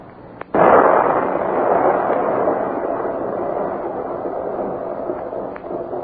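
A dynamite blast in a Western radio drama, a sudden loud burst that rolls into a long rumbling roar and slowly fades, with no voices.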